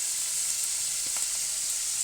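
Chicken livers, bacon lardons and mushrooms fry together in a pan, giving a steady, close hiss of sizzling fat with a few faint stirring knocks, no voices.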